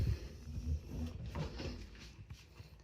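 A drawer in a bedroom of a shared home in Canada is pulled open or pushed shut, giving a few close, quiet wooden knocks and scrapes.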